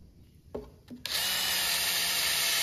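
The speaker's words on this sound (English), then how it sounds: "Now I've got to drill the hole in the lid arm." A couple of soft knocks, then a power drill starts and runs steadily at high speed drilling a 3/16-inch clearance hole in a metal lid arm, loud and close, with a continuous whining hum.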